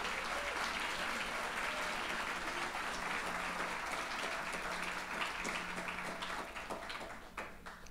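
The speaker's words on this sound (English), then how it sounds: "Let's give our teachers a round of applause." Audience applause for teachers at a Boca Raton Rotary Teacher of the Year awards event, a broad, even wash of clapping filling the room, steady and fairly distant before tapering off at the end.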